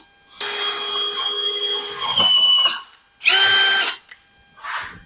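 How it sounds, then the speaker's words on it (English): A power drill whirs in three short bursts, enlarging a 1/16-inch hole to take a 1/8-inch cable on a Factory Five Racing Roadster build, each burst close and loud with brief pauses between. "So step one is to drill this out to accept this cable."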